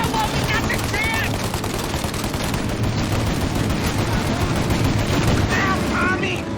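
Heavy, continuous gunfire rages through a shootout in the video game Mafia Definitive Edition, dense overlapping bursts filling the whole stretch with brief shouted voices breaking through.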